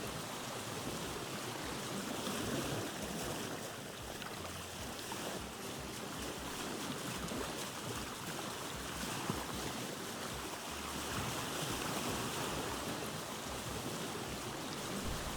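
A canoe is paddled along a river in the video game Vintage Story, giving a continuous soft wash of moving water that stays even and fairly quiet throughout, with no speech.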